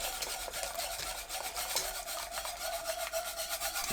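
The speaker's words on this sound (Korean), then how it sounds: "밀가루 푼 물을 부으면서 저어주세요" Spoon stirring spinach kimchi broth while flour-water is poured in, making continuous scraping, rubbing strokes against the pot in a steady rhythm, close and fairly loud with no voices.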